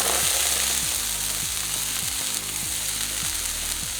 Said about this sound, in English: I am going to add my beans in the pan now.